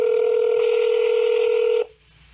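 A telephone dialing a call: a loud, steady electronic tone holds for nearly two seconds and then cuts off, leaving a faint line hiss.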